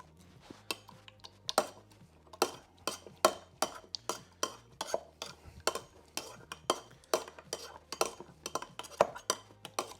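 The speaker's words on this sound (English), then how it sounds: "2 to 3 lychees, and we're gonna muddle them." Lychees are muddled in a glass for a pear lychee martini, giving a steady series of sharp knocks and clinks about twice a second, close and distinct, over a faint low hum.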